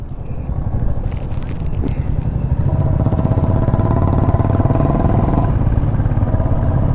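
Motorcycles in a bike rally on the mountain road near Guptkashi drone loudly and continuously as they ride, the engines buried under heavy wind buffeting against the microphone.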